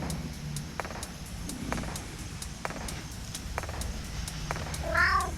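A cat lets out a single clear meow near the end, after a stretch of quiet background with faint, regularly spaced ticking.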